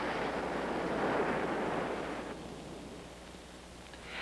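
Storm-driven ocean waves arriving at Cape Palliser, New Zealand, heard as a continuous broad roar of surf with a swell and gradual easing, along with some wind-like rushing.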